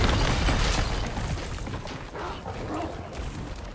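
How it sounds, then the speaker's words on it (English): Dogs barking and yipping in the video game Resident Evil 4 Remake, several rough barks and whimpers at moderate distance over low game ambience, no talk. "Yo, are they mad dogs?"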